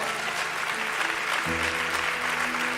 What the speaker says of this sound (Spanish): Alguien denle un aplauso a Dios.